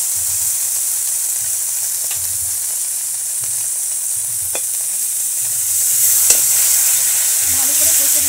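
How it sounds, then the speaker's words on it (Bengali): Cumin and coriander paste being stir-fried in a pan for a village-style egg, cauliflower and potato curry, with a steady close sizzle, a low recurring scraping rhythm of the spatula and occasional sharp clinks. "ভালো করে কষে নেবো, আবার যতক্ষণ মশলা থেকে তেল ছেড়ে দিচ্ছে না ততক্ষণ আমি কষে যাবো"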